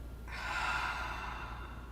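A long, steady breath pushed out during a diaphragm breathing exercise, a soft airy rush that swells after a short pause and trails on for over a second, close and alone.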